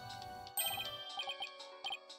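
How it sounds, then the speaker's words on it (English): A phone ringtone jingle from the Ace Attorney: Dual Destinies video game plays as a brief, bright chiming melody of quick tinkling notes, clear and alone for about two seconds. "Is that his ringtone?"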